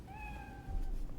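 A cat in the game Cyberpunk 2077: Phantom Liberty gives a single clear, drawn-out meow, close and fairly loud over a low background rumble.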